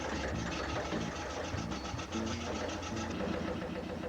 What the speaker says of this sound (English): That's just the donkey engine.